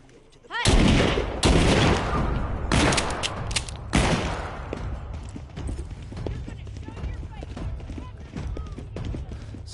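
Shotgun blasts in The Walking Dead: Saints and Sinners VR game, several loud booming shots in quick succession followed by clattering handling noises and scuffling, with talk mixed in.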